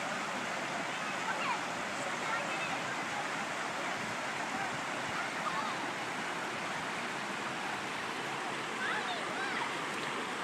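A river flows along the Breckenridge River Walk in Colorado, making a steady, dense rushing roar that stays loud and even throughout, with no pauses.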